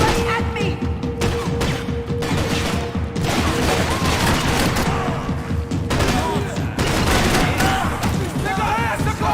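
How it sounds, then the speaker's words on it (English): Dense gunfire fills a Max Payne shootout, with rapid overlapping shots and bursts rattling close and loud without pause while voices shout over the barrage. "You're shooting right at me!"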